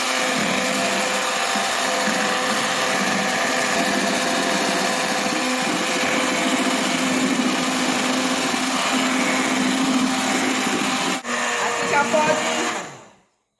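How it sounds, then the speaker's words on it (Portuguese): Electric hand mixer whipping egg whites with lemon syrup and sugar, a loud steady high whir running continuously before a click and quick wind-down at the end. "Agora eu vou bater essas claras em neve e já já a gente volta."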